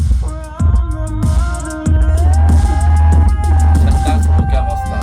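Song played through a GOVO GoSurround 1008 Pro 680W 5.2-channel Dolby soundbar with dual 6.5-inch drivers, bass and treble both at maximum: loud, dense music with a heavy sustained low end and bright sustained tones, no talking.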